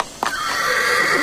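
A horse gives one loud, close neigh that breaks out abruptly and rises into a long, wavering whinny that fills the rest of the moment.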